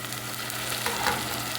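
Tomatoes frying with onions in a pan for an Ethiopian egg scramble give a brief, steady crackling sizzle, close and alone with a faint stirring scrape.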